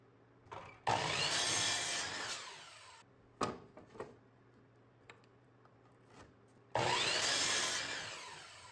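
A miter saw set to a 5-degree angle cuts pallet wood for bench legs, with two loud, sustained close-up cutting bursts separated by clunks and handling knocks.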